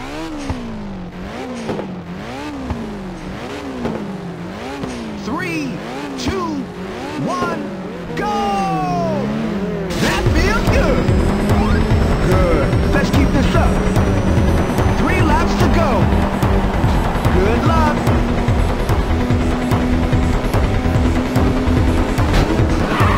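Race cars on Diablo Canyon Road in the PSP game Ridge Racer: sweeping tonal game sounds give way to a loud, steady roar of engines revving at full throttle that continues to the end.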